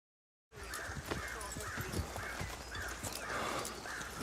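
A horse in Game of Thrones gives steady rhythmic hoofbeats and repeated whinnying calls. The sound stays at a moderate level against an outdoor background with a crow-like caw.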